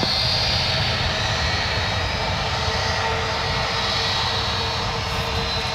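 A jet airliner roars steadily at full takeoff power on runway 1 left at San Francisco International, a loud broadband rumble with a high whine that holds for the whole stretch and has no voices over it.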